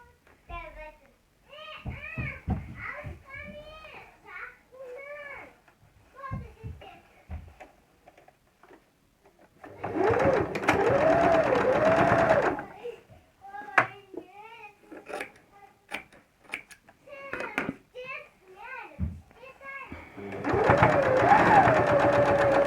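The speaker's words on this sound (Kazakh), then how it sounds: "Енді күлгін түстін тігеміз." A sewing machine stitches purple pieces of a patchwork quilt in two loud, close runs of steady whirring, with someone talking before, between and after the bursts.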